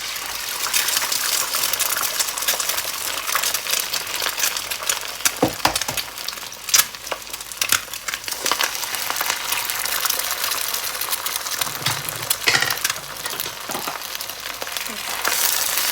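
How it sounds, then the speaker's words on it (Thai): Oil hisses and crackles steadily in a hot pan as an egg fries. A few louder sputters and pops break through the constant sizzle. "ตั้งกระทะ ใส่น้ำมันนิดนึงนะคะ ตอกไข่ใส่เลย"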